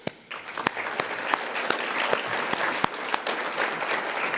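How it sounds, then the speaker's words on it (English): Dinner audience applauding at a university society dinner: steady, dense clapping from a roomful of guests, sustained across the whole stretch with a few sharper individual claps popping out. "give yourselves a round of applause"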